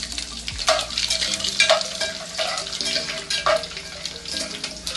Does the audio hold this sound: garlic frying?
yes